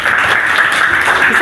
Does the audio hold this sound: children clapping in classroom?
yes